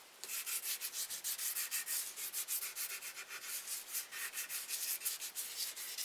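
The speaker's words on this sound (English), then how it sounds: "I'm just going to lightly sand it down some." Rhythmic strokes of 220 grit sandpaper lightly sand a carved wooden ventriloquist dummy, a close, soft, hissing rub that repeats steadily back and forth with no talk.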